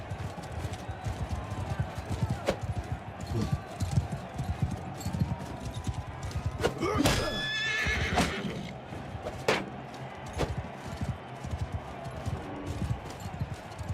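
Horse neighing and whinnying in the video game Warsails, with steady hoof clip-clop throughout and a louder, drawn-out whinny midway.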